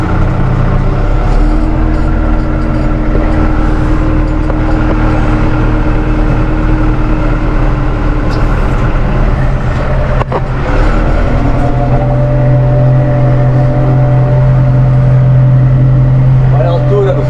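A car driving after a gear change, a loud, steady engine drone with a continuous rumbling hum that shifts pitch partway through, close and unbroken.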